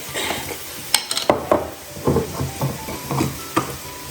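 A spoon stirs coriander powder and spices frying in oil in a pan for a pork roast, with a steady sizzle under repeated close scrapes and clinks against the pan.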